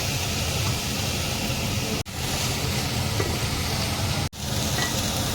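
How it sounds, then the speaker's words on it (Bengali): Potato, carrot, cauliflower and beetroot frying for a vegetarian curry, a loud continuous sizzle close by with stirring, broken by two brief pauses; no talk. "এবার এগুলো একটু ভাজা ভাজা করবো"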